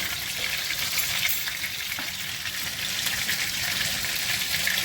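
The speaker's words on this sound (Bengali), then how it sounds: "এই তেলেই আমি কালো জিরে ফোরন করছি" Nigella seeds sputter and crackle in hot mustard oil, steady close frying hiss throughout with no voices.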